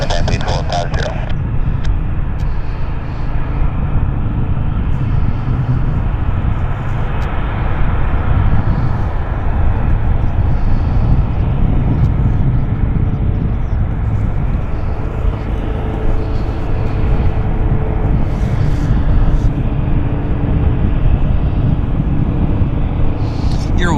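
Jet airliners landing on runway 08 left at Vancouver International Airport, a steady loud broadband engine roar and rumble throughout, with a faint radio-like voice layered underneath.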